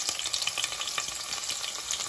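Onions fry in a pan with a close, busy crackle and sizzle, small pops and stirring scrapes scattered through a steady hiss.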